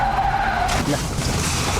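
In a Roblox horror game, a car suddenly arrives and skids to a stop with a brief tire screech and rushing noise, with a short spoken word over it.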